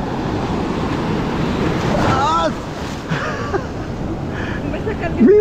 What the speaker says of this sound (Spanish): Mira esas olas, caracho.